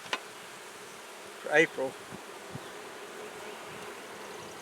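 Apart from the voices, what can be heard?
bees buzzing in a hive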